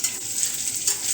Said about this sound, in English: maybe scrambling, but I call it frying